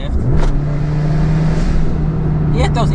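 A Suzuki Wagon R engine revs up sharply after a downshift from third gear while moving at about 65 km/h, then holds a loud, close, steady drone inside the car.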